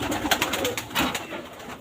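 A pair of Prince Kamagar pigeons nesting in a breeding loft make soft cooing and fluttering sounds, close and moderately quiet, with short bursts of rustling wing or body movement.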